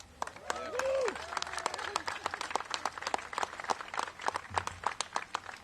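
Outdoor crowd applauding at a public pool ribbon-cutting ceremony, a scattered round of claps rising then thinning into individual sharp hand claps, with a brief voice and a bird-like whistle early on.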